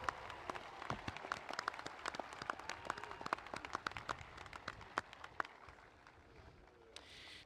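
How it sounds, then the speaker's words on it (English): Scattered, fairly faint applause from a graduation ceremony audience for the choir and band, individual claps standing out in an uneven patter that thins toward the end. "Let's give the choir another round of applause, as well as our band who entertained earlier today."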